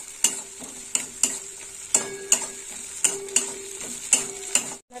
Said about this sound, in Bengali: এবার একটু কষে নেবো মশলা দিয়ে।